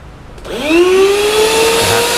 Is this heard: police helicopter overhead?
no